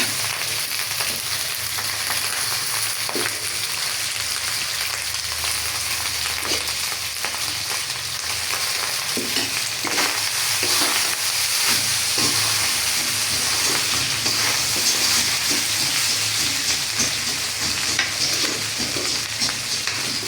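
Ingredients for fried rice frying in a wok, a steady loud sizzle and hiss that runs throughout, punctuated by repeated scraping clacks of a stirring utensil, with no talking.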